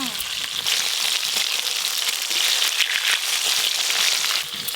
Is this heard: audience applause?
no